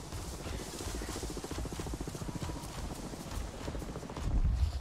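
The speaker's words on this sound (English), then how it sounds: "Is it frowned upon to kill one of those horses?" Horse hooves clip-clop in a steady, rapid rhythm in the video game Avatar: Frontiers of Pandora, moderately loud and continuous with a low background rumble.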